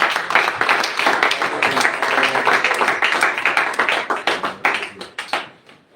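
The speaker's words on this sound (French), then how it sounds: "On acclame pour la parole de Dieu." A congregation at a Friday night prayer vigil claps and applauds in a dense, rhythmic burst of many hands, close and loud, with pulsing beats that taper off and fade to quiet at the end.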